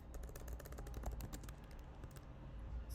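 Close, rapid keystrokes on a computer keyboard clatter in a dense, uneven stream with a quiet background and no talking.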